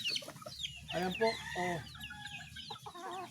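Backyard chickens cluck and call repeatedly nearby in short bursts, with someone speaking briefly over the flock.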